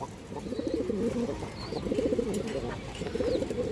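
Racing pigeons, including a female, coo in repeated low, throaty phrases close by, with a few faint higher chirps above them and no talking.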